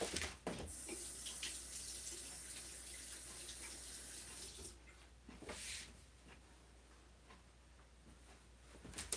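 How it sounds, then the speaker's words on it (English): A tap running into a sink while ink is washed off a hand, a steady close splashing stream with brief louder surges as the hand moves under the water. "what I can do is wash my hand quick"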